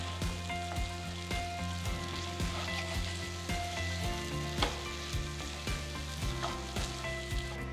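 Mutton chukka sizzles and fries steadily in a pan while being stirred with pepper and curry leaves, a dense continuous crackle with occasional louder pops and scraping stirs throughout.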